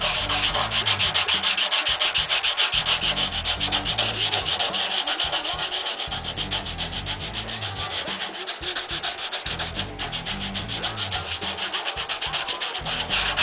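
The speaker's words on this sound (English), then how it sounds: "it's just a matter of sanding, getting down here in these low spots." Hand sanding of body filler on a 1940 Chevrolet truck with 180-grit paper wrapped on a tongue depressor, heard as a steady close-up rasping scrub with a quick back-and-forth rhythm running continuously and alone.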